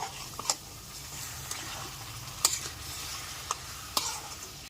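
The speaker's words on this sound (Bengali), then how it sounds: "এবার ক্রমাগত নেড়ে একটুখানি মিশিয়ে নিতে হবে" Semolina stirred with milk and a little water in a pan for suji halwa, soft continuous scraping with several sharp spoon clicks against the pot, quiet and close, no talk.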